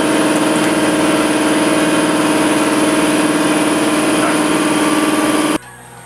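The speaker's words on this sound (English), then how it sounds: "they do have electric impacts, which work fabulous for this sort of situation, for the at-home guy" An electric impact wrench runs continuously while removing the rear castle nut on a 2005 Yamaha Grizzly 660 ATV, a loud steady mechanical whir close by that stops abruptly near the end.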